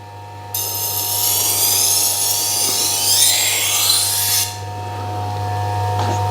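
A Tormek T1 sharpener grinds a favourite kitchen knife blade, giving a loud, steady, high scraping whine for about four seconds before cutting off, over a constant low electrical hum.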